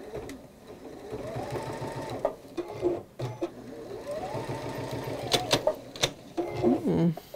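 Domestic sewing machine stitching a fidget quilt in short stop-start runs, each a rapid whirring hum that stops and restarts, close and moderately loud, with a few clicks and handling noises between runs.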